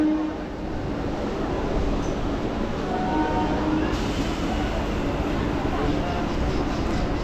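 A local train idling at the platform of Bagnan station on the Howrah–Digha line, with a low steady rumble and distant station hubbub, no clear horn or movement.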